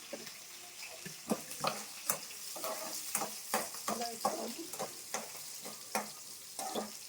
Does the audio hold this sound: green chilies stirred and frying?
yes